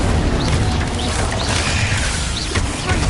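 Incendio fire spells cast in Hogwarts Legacy, a dense continuous whoosh and crackle of magical flames with brief bright zaps, loud and close throughout with no pauses.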